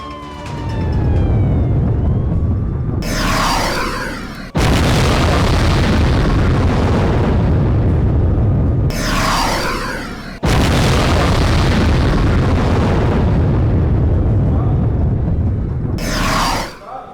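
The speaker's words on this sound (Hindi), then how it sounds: "हमले से ऑयल टैंकर में तेज विस्फोट हुआ है।" Loud, sudden booms burst out repeatedly as a drone attack in Crimea sets off an oil tanker explosion, amid a continuous roaring din with a wavering siren-like wail underneath.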